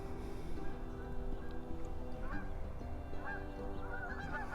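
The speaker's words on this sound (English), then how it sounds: "Got some geese flying behind me here." Several geese honk in scattered calls flying overhead behind a patio, moderately distant, over a steady low outdoor rumble.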